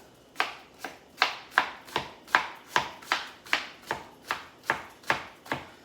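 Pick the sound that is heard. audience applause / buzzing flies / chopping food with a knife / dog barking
chopping food with a knife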